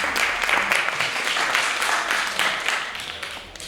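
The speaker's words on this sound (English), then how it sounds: "Applaud the poet." An audience at a high school poetry slam applauds a poet after the scores are read, with steady, dense clapping throughout that fades slightly toward the end.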